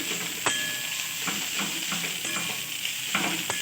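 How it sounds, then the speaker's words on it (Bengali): Food fries in a pan with a constant bright sizzle, punctuated by repeated stirring scrapes and clicks of a utensil at a fairly even rhythm, close and continuous. "এইভাবে আরও 1 মিনিট আমি ভালোভাবে ভেজে নিচ্ছি"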